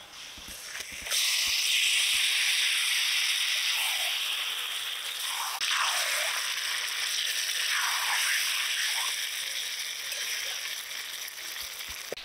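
Marinated chicken hitting hot oil with onions fried red for chicken biryani, a sudden loud sizzle that erupts after a brief pause and keeps hissing and crackling steadily, slowly easing, close up with no talk.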